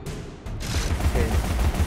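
A cannon crab in the video game Alice Madness Returns fires, a sudden burst that swells into a loud, rumbling blast with crackling noise trailing off over the game's background.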